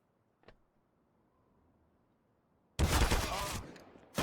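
Loud burst of gunfire from the video game Counter-Strike, during a CCT North Europe match between SAW and BetBoom, erupting suddenly after near silence and a single faint click, then rattling on densely for over a second.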